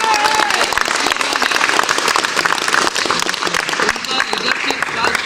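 Dense, continuous audience applause at an indoor business recognition event, many hands clapping loudly and evenly with a brief voice at the start.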